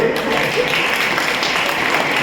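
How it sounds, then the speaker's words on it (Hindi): Loud clapping from an audience at a Brahma Kumaris gathering in Assandh, a dense continuous burst of applause that stays steady throughout. "बजाइए ताली एक बार जोर से"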